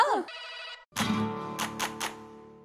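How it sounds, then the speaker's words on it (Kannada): A telephone rings with an electronic ringtone, a short tone burst followed by a sustained ringing pattern with repeated bright pulses, heard close and clear with no talking, in a quiet domestic night scene. "ಗೌಡ್ರು ಯಾಕೆ ಇಷ್ಟೊತ್ನಲ್ಲಿ ಫೋನ್ ಮಾಡಿದ್ದಾರೆ?"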